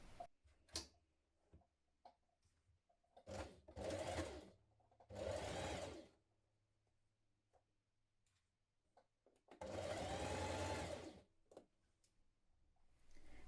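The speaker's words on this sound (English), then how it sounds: "going to stitch this in place with a 1 centimetre seam" Nearby, a sewing machine stitches a 1 cm seam on a kaftan dress in three separate bursts of steady whirring, the last the longest, with quiet pauses and small ticks and handling clicks in between.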